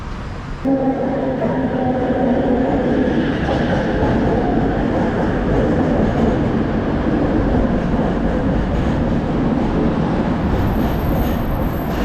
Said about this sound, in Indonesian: Oke, LRT-nya udah sampai.